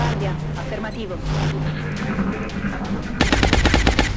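Machine gun suppression fire in the XCOM video game, with rapid automatic bursts that grow loud and dense near the end over a steady background hum.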